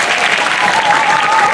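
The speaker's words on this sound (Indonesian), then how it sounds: "Tepuk tangan loh Riki" A brief burst of steady crowd applause at a Balinese Calonarang temple performance, loud and even throughout, with a faint sustained tone and murmuring voices underneath.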